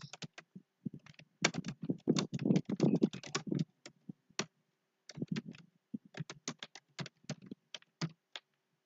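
Fingers type a title on a computer keyboard in quick, irregular bursts of close, crisp key clicks with short pauses between, alone and quiet.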